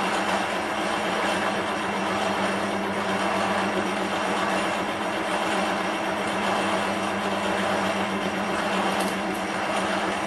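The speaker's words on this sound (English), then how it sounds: "Spinning at 460 RPM." A machine spinning at 460 RPM while casting aluminium round stock gives a continuous, steady mechanical rumble and drone that holds evenly throughout.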